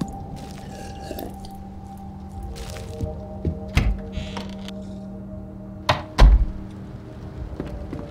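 Eating canned vegetable soup in the video game Dead Frontier 2: a few wet squishy chewing and thunking sounds scattered over a steady humming game ambience, with a louder cluster of thuds near the end.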